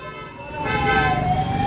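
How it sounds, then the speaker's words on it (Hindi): A 112 emergency police vehicle's siren wails close by, a loud, rising and sustained electronic tone over road and engine noise. "लकीली पुलिस की गाड़ी भी आ गई है 112 की"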